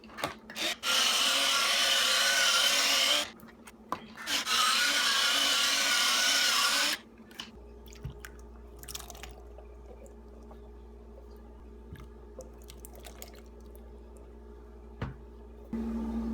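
Black beans are added to homemade chili, giving two loud bursts of pouring, rattling and sloshing of several seconds each, followed by quieter scattered taps and faint low hum.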